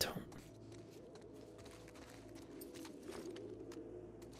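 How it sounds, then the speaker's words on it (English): Birds chirping and cooing in The Last of Us Part II, scattered faint calls under a quiet game ambience with a man murmuring at very low level. "why are there so many bird sounds?"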